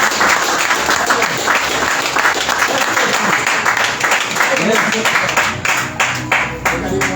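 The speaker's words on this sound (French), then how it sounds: "est-ce qu'on peut acclamer fort pour le Seigneur?" A church congregation at a prophetic conference applauds loudly for the Lord, dense sustained clapping from a large crowd with voices mixed in throughout.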